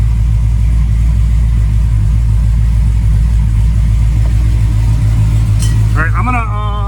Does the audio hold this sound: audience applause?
no